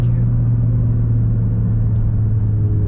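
A tuned Nissan GT-R at about 800 wheel horsepower, fitted with blow-off valves, gives a loud steady engine rumble from inside the car while driving, with a faint brief hiss partway through.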